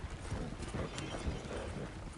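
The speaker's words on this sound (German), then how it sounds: "Dann reiten wir wieder." Hoofbeats of a ridden horse in a video game clatter in a steady, even clip-clop rhythm, moderately close and fairly quiet, with no talking over them.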